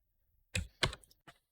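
Typing on a computer keyboard while entering names and ages into Notepad++, heard as three crisp close-up key clicks, two in quick succession and a third after a short pause, in an otherwise quiet room.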